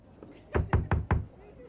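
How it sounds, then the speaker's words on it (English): Four quick, evenly spaced knocks on a wooden door in the video game The Bookwalker: Thief of Tales. They are firm and close, with short gaps and no speech over them. "Knock harder."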